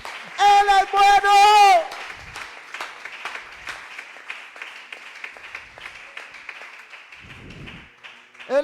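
Church congregation applauding during a Spanish-language sermon, a steady wash of many hands clapping that fades under a preacher's voice after a brief burst of speech at the start.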